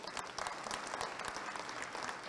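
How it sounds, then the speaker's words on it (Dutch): An audience at a charity foundation gathering applauds, a continuous wash of many hands clapping that sounds somewhat distant and soft, steady for the whole stretch. "Mag ik een applaus daarvoor?"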